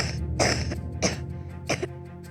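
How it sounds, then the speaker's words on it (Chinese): Children coughing in a busy paediatric clinic at a Shanghai hospital: three distinct coughs or throat-clearing bursts spaced about half a second apart, close and fairly loud over a constant murmur of room noise. "小孩的咳嗽声此起彼伏"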